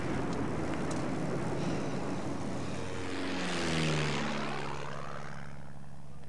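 A World War II-era propeller aircraft flies past in a Flight 19 reenactment, the engine drone swelling as it approaches and then sliding down in pitch as it passes and fades, loud and steady against wind.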